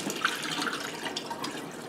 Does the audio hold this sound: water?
yes